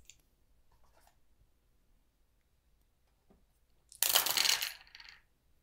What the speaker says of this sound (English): the first step is to roll the destiny dice